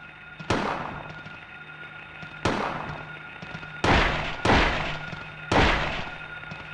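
Gunshots in the 1999 video game Silent Hill: five sharp, loud blasts spaced a second or two apart, each with a short ringing decay, heard alone without talk.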